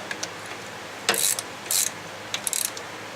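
Ratchet wrench snugging bolts on an IH 354 tractor, several short bursts of close, crisp clicking with pauses between, loud and alone.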